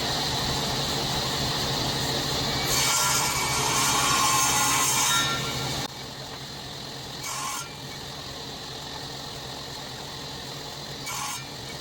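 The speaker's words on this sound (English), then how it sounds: "The saw blade was then set to 1/4 inch to do my mortise and tenon joints." A table saw cuts ash wood for mortise and tenon joints: a steady motor drone with a louder, rougher cutting burst in the middle, then a quieter hum broken by two short bright rasps, no talk.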